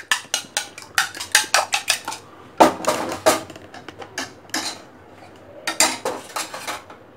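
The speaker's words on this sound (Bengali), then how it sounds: "এখানে আমি ভালো করে ডিমটা গুলাই নিব।" Two eggs are beaten with a utensil in a bowl, producing rapid rhythmic clinking strokes in bursts separated by short pauses, close and clear with no talking.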